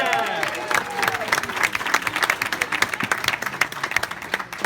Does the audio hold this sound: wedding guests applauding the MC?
yes